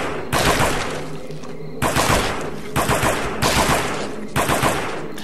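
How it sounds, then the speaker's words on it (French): A small pistol fires in the Aliens vs Predator game, with several rapid bursts of loud, close gunfire separated by short pauses. "j'utilise mon petit pistolet parce que j'ai envie d'économiser mon lance-flamme"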